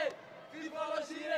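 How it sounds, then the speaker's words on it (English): Young teammates shouting and cheering at a junior wushu sanda bout in the boys' 56 kg category, a brief burst of crowd voices close by and moderately loud. "their teammates is rooting for them. They're cheering. They're cheering their friend."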